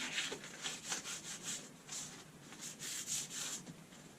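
Rhythmic rubbing strokes of paper wiping the bed of a wood lathe after turning a granadillo bowl, a steady back-and-forth swish, close and fairly soft with no voices.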